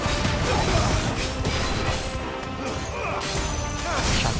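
Glass shatters after a gunshot in Final Fantasy XVI, a loud burst of crashing and smashing over busy game sound with no clear pause.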